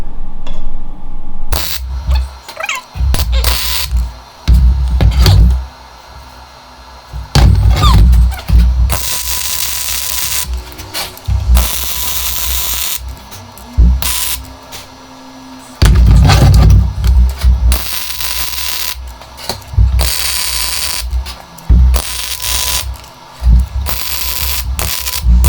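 Spot-welding tack points onto old sheet metal while modifying a Solex moped saddle: loud, sharp crackling bursts come in repeated clusters of a few seconds each, separated by brief quieter gaps.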